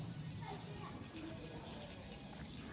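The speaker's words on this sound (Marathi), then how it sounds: "इथे नळ चालू आहे बघा ना" Steady rushing of water from a tap, constant and close, with faint voices in the background.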